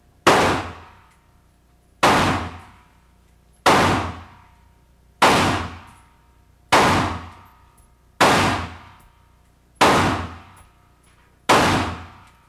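Semi-automatic civilian version of an assault rifle fired eight times at a steady two-second interval, each loud sharp report decaying into a brief ringing tail outdoors, with no talking.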